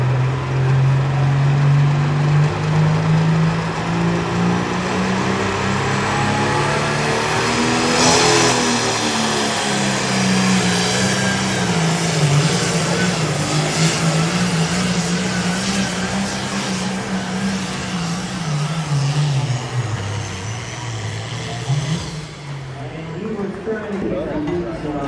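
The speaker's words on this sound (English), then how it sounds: "Again, this is Mr. Jared Fender on a tractor he calls Legal Correct." Pulling tractor named Legal Correct roars through a tractor pull run at Brown County, its loud engine note climbing and holding strong throughout, with a commentator talking over it.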